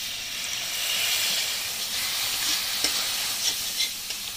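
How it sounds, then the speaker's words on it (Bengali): Ground spice masala with chili, coriander and cumin powder fries in a pan with a little water, giving a bright, steady hiss and sizzle, near and even, broken by a few soft stirring taps toward the end, with no talk. "সামান্য পরিমাণ জল দিয়ে কষালাম যাতে তলায় মশলাটা না লেগে যায়।"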